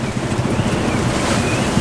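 A sailboat sails close-hauled in a 16 to 17 knot wind, with a constant rushing roar of wind and water splashing against the hull, loud and close, with no voices.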